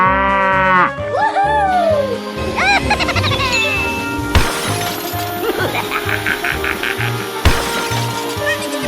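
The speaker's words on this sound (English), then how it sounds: "Cow." A cow moos amid the busy effects of a 3D animal sliding video game, with drawn-out lows mixed with shattering, jingling and dinging sounds over a pulsing game soundtrack.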